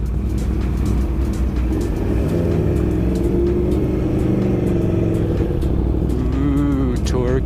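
A 2016 Aprilia Tuono Factory 1100 motorcycle ridden on the road, its engine droning steadily and loudly with rising and falling revs, wind rushing past, and a rider's voice occasionally breaking through near the end.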